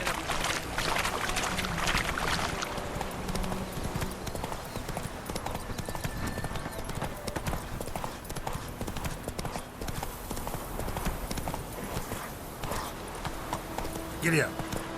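Roach, Geralt's horse in The Witcher 3, gallops with fast, steady hoofbeats throughout, close and loud, while someone talks over the drumming.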